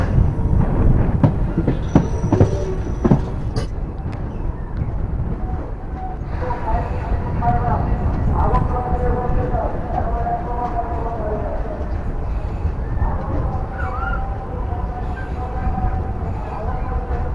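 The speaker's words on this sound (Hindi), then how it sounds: "ट्रेन पहुंच चुकी है new Cooch Behar station code NCB।" The Deoghar Agartala Express rolls into New Cooch Behar station with a loud, close rumble of wheels and carriages, a brief horn near the start, and rail noise and squeals continuing throughout.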